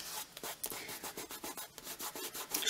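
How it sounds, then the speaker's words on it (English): Rhythmic back-and-forth rubbing on paper to remove excess in a paper craft project, a quick series of soft, close scrubbing strokes. "Just rub the excess off."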